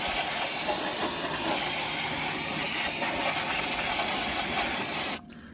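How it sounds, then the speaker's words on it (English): A can of brake cleaner sprays onto the rear brakes of a 2018 Porsche Panamera 4S with a 2.9 L engine, giving a loud, continuous close hiss that stops abruptly after about five seconds. "Okay, so more brake cleaner than you'll ever need. Whee! Brake cleaner!"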